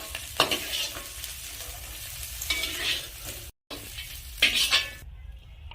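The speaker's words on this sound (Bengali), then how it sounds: "একসাথে ভাজা গাজর ও বিনস এখন আমি নামিয়ে নেব।" Carrots and beans frying together in a pan, giving a steady sizzle broken by louder bursts of stirring and scraping at the pan. Near and continuous, with a brief gap of silence midway.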